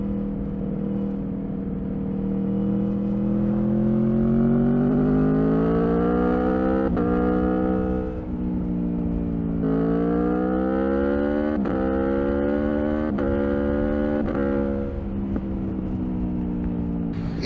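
A 2021 Aprilia Tuono 1100 Factory motorcycle accelerates hard through several quick-shifter upshifts, its engine note climbing then dropping sharply at each ignition-cut shift, loud and continuous with no talk.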